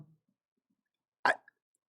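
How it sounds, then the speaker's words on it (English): A single short burp stands out alone in near silence, a brief throaty burst followed by a tiny click, with faint breathing just before. "Excuse me, I got the burps."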